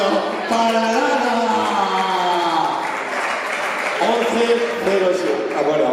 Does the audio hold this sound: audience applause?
yes